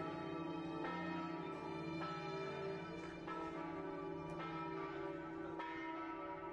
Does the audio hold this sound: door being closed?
no